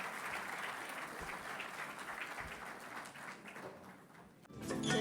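Steady applause from a seated crowd at an education summit, greeting a ceremonial lamp lighting. The clapping runs continuously and fairly loud, with a brief dip near the end before a louder, brighter burst.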